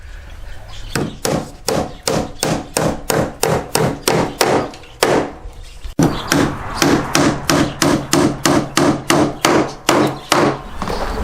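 Nail guns firing in quick regular bursts as plywood sheathing is fixed to a roof, around two dozen sharp close shots with short pauses between runs and no talking.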